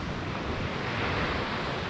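Steady wind buffets the microphone while surf rolls on a marsh shore at high water, a dense, continuous roar with no voices.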